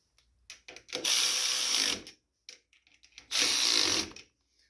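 Carburetor bolts on a John Deere LA105 riding mower get tightened with a power driver: two sustained whirring bursts about a second long each, separated by small clicks and quiet handling noises.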